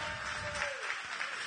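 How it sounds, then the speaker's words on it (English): Audience clapping for the winners at a product pitch night in Tulsa, a continuous even patter of applause at moderate distance, with a brief tonal sweep passing over it. "Let's give our winners a round of applause"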